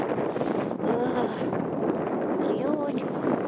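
Cold wind buffets the microphone in a steady rushing roar on a cable car ride in snow, with faint voices talking underneath.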